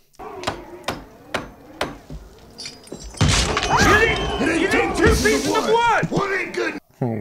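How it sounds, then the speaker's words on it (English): A hammer strikes nails into wood to seal a door shut, a run of sharp separate blows followed by heavy continuous clattering and banging, loud and close, with voices mixed in. "We gotta re-nail it when we let all them in."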